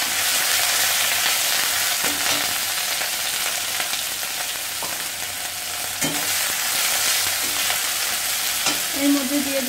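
Ginger, garlic, onion and cumin paste fries for beef curry in a hot pan, a constant loud sizzle broken by occasional stirring scrapes and knocks, with no voices.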